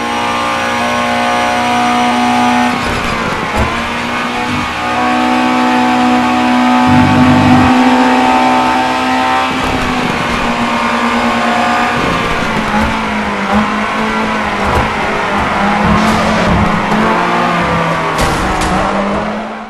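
Ferrari race car engine from the PlayStation 3 racing game Ferrari Challenge, a loud, steady high-pitched drone that rises and falls through gear changes across the whole stretch, with no talking.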